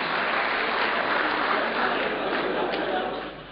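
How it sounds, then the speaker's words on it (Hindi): A mushaira audience in Qatar breaks into loud, dense applause welcoming an Urdu poet, a thick continuous clatter of many hands that tapers slightly at the end. "जोरदार तालियों से इस्तकबाल करें"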